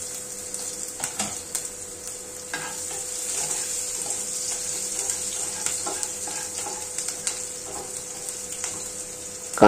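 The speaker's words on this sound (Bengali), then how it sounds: "কিছু তেলে একটু নাড়াচাড়া করে ভেজে নেব। এবার এতে দেব কাঁচা লঙ্কা কুচি।" Chopped green chilies frying and being stirred in hot oil in a pan for a dal and pointed gourd curry, a steady close sizzle with scattered crackles and stirring clinks throughout, no voices.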